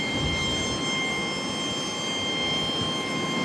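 Boeing 737 jet departing Charlotte airport, heard as a steady, loud broadband engine roar with a constant high whine, one of two back-to-back departures, with no voices over it.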